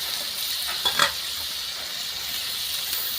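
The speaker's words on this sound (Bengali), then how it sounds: "টমেটো ঢেলে দিলাম পরিমাণ মতো নুন দিয়ে দিলাম" Tomatoes hit a hot pan with a brief louder splash and then settle into a steady soft sizzle and hiss, alone without talk.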